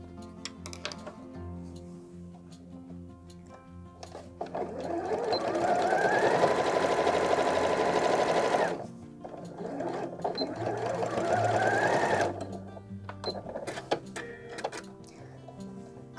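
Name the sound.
sewing machine stitching a fabric pouch with 1cm seam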